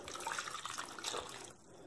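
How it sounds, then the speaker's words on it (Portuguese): Water poured into a pot holding pears stood upright for a spiced pear dessert, a steady splashing, trickling stream that runs close and continuous before cutting off near the end. "Vamos colocar aqui a água."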